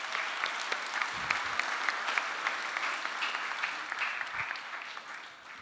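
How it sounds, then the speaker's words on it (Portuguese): Sustained applause from an audience at an engineering symposium, a dense steady patter of many hands clapping for several seconds without talk. "Aplausos para su amiga."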